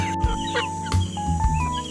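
Chickens cluck and chatter nearby while being fed, in short, overlapping calls, with a few sharp squawks and scuffing noises mixed in.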